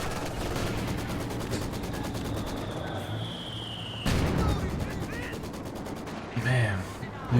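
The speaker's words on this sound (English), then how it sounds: "these mortars just continue to tear up Paul" Mortar fire in Company of Heroes 2 amid ongoing battle, a falling whistle ending in a sudden loud blast, with rapid machine-gun rattle and further bursts around it, and a voice talking beneath.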